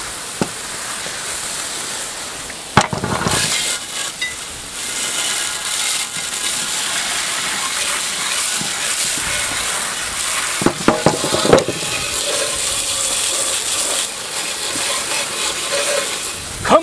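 Water sprays and rinses over a Johnson 30 HP outboard motor in a steady, close hiss, with a few louder splashing bursts near the start and again around the middle.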